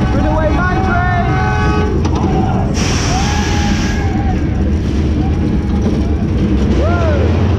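A Runaway Mine Train roller coaster at a funfair rattles and rumbles along its track, loud and close, with whistle-like squeals and riders' voices over the steady clatter.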